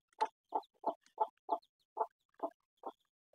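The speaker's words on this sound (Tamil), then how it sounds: "நம்மளுடைய கோழி குஞ்சு" Chicken chicks in a loft give a steady run of short, evenly spaced clucks, about three per second, close and moderately loud with nothing else behind them.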